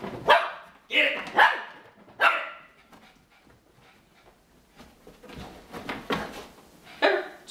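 A dog barks at a laser dot indoors near a couch, sharp loud barks in a quick pair and then singles, interspersed with softer whines, while a person talks.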